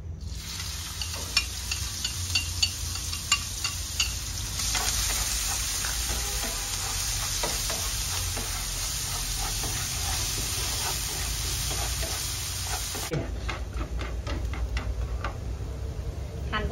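Minced shallots and chili sizzle steadily in hot oil in a pan, with a dense crackling hiss that swells partway through and a few light clicks of stirring.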